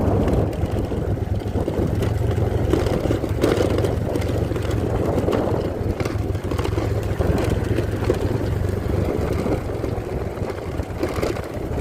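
Motor engines drone steadily and loudly on a steep village road in the Watu Ondo area, a continuous rumbling hum with no clear pass-by peaks, and no talk over it.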